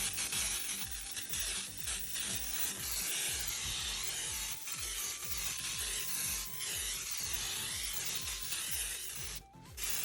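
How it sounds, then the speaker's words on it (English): Bursts of nonstick cooking spray hissing onto a pan, mixed with rubbing and scraping noises, continuous and close, with a brief pause near the end. "we're gonna start by spraying our pan with nonstick spray"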